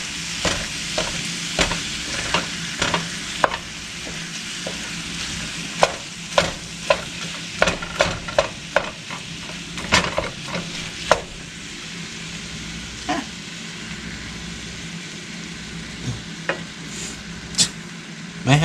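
Sausage and ground beef fry in a pan with a steady sizzle, while a utensil stirs and scrapes through the meat in irregular clatters. It is heard close up, with no talking.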